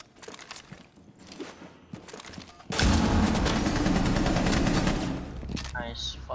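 A first-person shooter match during a bomb-defusal round sets off a loud, sustained burst of gunfire fired through a wall, following quieter footsteps and movement, with a brief voice near the end.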